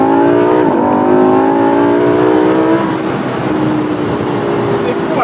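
Lamborghini Huracan Spyder engine pulling in second gear at low road speed, a loud, steady drone heard from the cabin with a pitch that wavers and then eases into a broad rumble, while someone talks over it.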